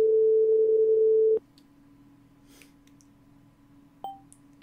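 Telephone call-back tone: a loud steady ringback or busy tone for about a second and a half, then cut off, leaving a quiet line hum and a brief beep near the end.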